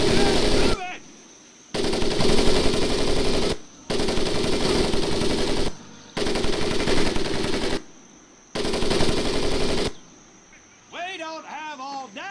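Gunfire in the Medal of Honor Pacific Assault video game: five long loud bursts of sustained rapid machine-gun fire separated by short gaps of a high insect-like hum, ending with a voice speaking.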